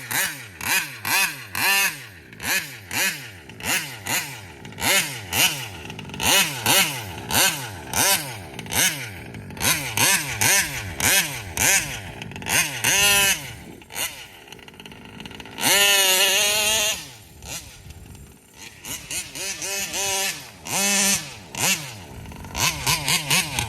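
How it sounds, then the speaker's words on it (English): Nitro RC car with a Taylor RC 35 reed engine, a 71 Supreme, running hard: a shrill, buzzing two-stroke whine that rises and falls over and over as the throttle is blipped, with brief near-silent pauses. "I got it fired up. Let's see what it's like."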